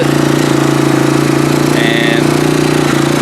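A 2019 Hawk 250 motorcycle engine idles steadily close by, a continuous low throbbing hum with a faint whine rising briefly midway and no talk over it.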